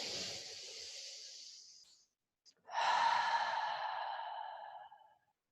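During a gentle yoga flow, one long breathy exhale fades out, then after a short pause a deep inhale gives way to a drawn-out sighing breath, soft, close and airy with no speech.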